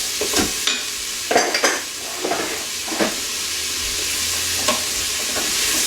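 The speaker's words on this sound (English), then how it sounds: "All those herbs cooking up with the onions." Herbs and onions fry in a pot as the base for chicken soup, a steady sizzle broken by several brief stirring scrapes, close and fairly loud with no talk.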